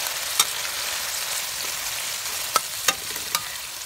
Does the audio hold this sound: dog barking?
no